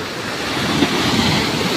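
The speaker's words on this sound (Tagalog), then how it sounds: "mapakalaki ng alon ngayon, araw na to." Big sea waves at Punta Harina Beach roll and crash in a loud, continuous roar of surf that fills the whole moment without a pause.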